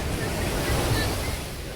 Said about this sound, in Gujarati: જો પાણી એકદમ પાણી આ બાજુ આવે છે મિત્રો